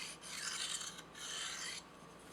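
A serrated knife edge is sharpened with rasping strokes, three long scraping passes in a steady back-and-forth rhythm, close and clear with nothing else audible.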